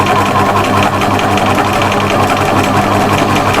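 A sewing machine stitches appliqué pebbles in circular movements on a mushroom house cushion, with a steady, rapid mechanical whirring and needle chatter at a consistent speed, close and loud with no talking.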